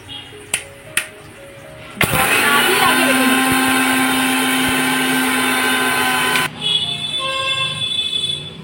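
A mixer grinder runs a dry grind of green chillies, a loud steady whine that starts abruptly, holds for about four seconds and then cuts off, with a few light knocks before it and a faint hum after it.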